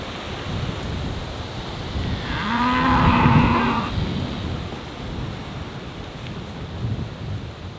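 A single long, low moo from cattle grazing in tall grass, carrying loud and fairly near over a steady outdoor rush of wind-like noise.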